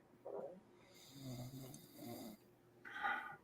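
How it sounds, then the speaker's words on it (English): Low, rhythmic snoring sits in the background of a live horror and sci-fi film review, with about three raspy breath cycles at a moderate, even level and a sharper snort-like burst at the end. "it sounds like are we getting some snoring in the background"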